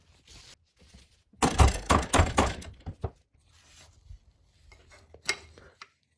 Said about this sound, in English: we'll do this by putting it in the vise, slightly tapping it with a hammer